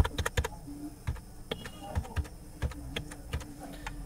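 Someone types an Aadhaar card number on a computer keyboard: a run of crisp, close key clicks in an uneven rhythm, with no voices.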